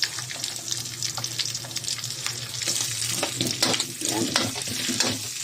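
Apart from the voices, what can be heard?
onions sautéing in oil with ground meat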